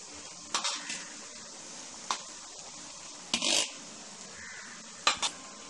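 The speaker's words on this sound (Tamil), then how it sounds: "இது நல்லா பாஸ்மதி ரைஸ் இது நல்லா கலக்கணும்" Basmati rice stirred in a pan for Tamil-style fried rice: a few sparse scraping and clinking strokes of a utensil against the pan, with quiet gaps between them and a faint background hum.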